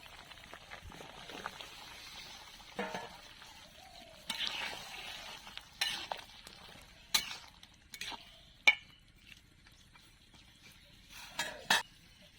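Flat beans, tomato and chilli sizzle softly in a pan, a low steady fry broken by a series of sharp clatters and scrapes from stirring.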